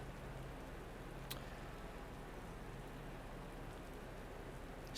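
Steady rain falling in a touring car racing video game at the Zolder circuit, a soft continuous wash with a faint engine hum underneath and no voices.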